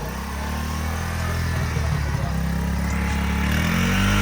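Engine of a new 2025 Honda CD70 motorcycle running steadily, a low continuous drone that rises slightly in loudness toward the end, with people talking over it.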